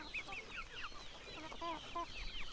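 Native country chickens on a farm cluck steadily in a busy, overlapping chorus, with several birds calling close by in quick irregular bursts.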